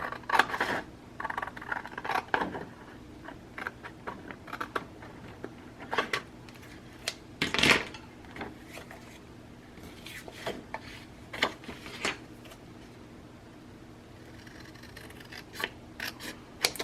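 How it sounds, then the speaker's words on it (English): Scattered snips and scraping cuts close by, irregular bursts with quiet gaps between, no talking. "Let's see how good I can do just trimming it with my scissors."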